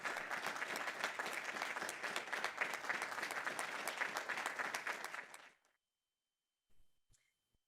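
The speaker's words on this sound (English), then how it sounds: "You all should be clapping." An audience applauds an award recipient at an annual membership meeting, with a dense, steady wash of many hands clapping for about five seconds before it cuts off to near silence, then a faint brief sound near the end.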